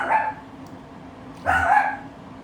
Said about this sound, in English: All that barking, I think you just wanted to say hi